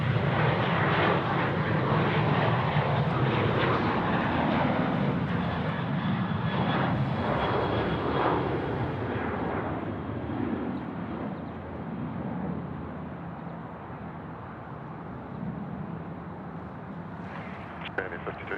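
An airliner landing on runway 34 right at Sydney Airport gives a broad, loud engine roar that slowly eases, with air traffic control radio chatter running underneath.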